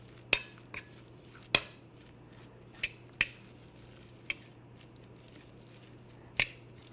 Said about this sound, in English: we're going to stir this all together and make sure it's well combined